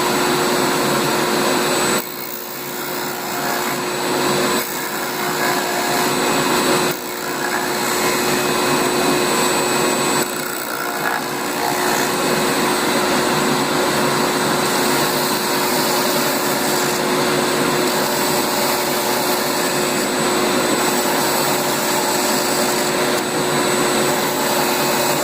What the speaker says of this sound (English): It is possible, however, to round a corner entirely with the sander and is fairly quick with 80 grit sandpaper.